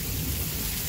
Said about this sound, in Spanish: cómo está tronando